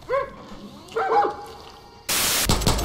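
Dogs bark and yip in Far Cry New Dawn, a few separate close barks spaced apart, followed by a sudden loud burst of noise at the end.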